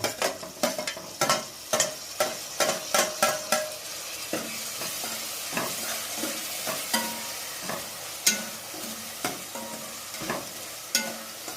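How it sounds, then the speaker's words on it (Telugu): Onions and tomato fry in a pan while a spoon stirs them, sharp repeated scraping knocks over a constant sizzle, close and fairly loud. "ఇప్పుడు ఉల్లిపాయలు లైట్గా కలర్ చేంజ్ అయ్యాయి. ఇప్పుడు మనం టమాటా యాడ్ చేసుకోవాలి."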